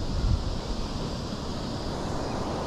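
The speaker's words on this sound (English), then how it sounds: "It's got a big waterfall and a nice river flowing through it that you can see." A big waterfall and a river in Girraween pour out a steady, loud broadband roar of rushing water, continuous and close with no voices.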